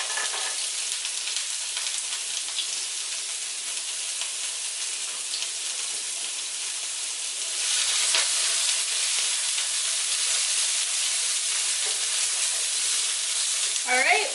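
Chopped carrots sizzle in a hot pan for cauliflower fried rice, a steady close frying hiss that gets louder partway through, with a brief clatter at the end.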